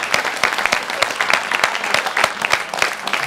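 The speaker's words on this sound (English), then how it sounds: "A huge round of applause to our guests, please, and our panelists." An audience at a talk applauds guests and panelists with dense, continuous clapping that stays steady and fairly loud throughout.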